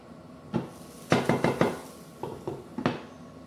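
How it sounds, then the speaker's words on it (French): A lid set onto a pan of vegetables left to cook gently: a close series of short clattery metal knocks and clinks, a quick cluster followed by a few scattered taps, with no talking. "Je vais couvrir un petit peu ma préparation."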